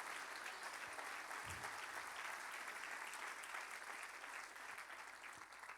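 A church congregation applauds during a service, producing sustained, even clapping from many hands that fills the space at a moderate, somewhat distant level.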